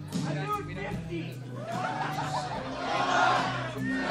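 A live comedy-show audience cheers and whoops for William doing push-ups, a rowdy crowd roar with shouts and laughter rising and falling, mixed with talking voices.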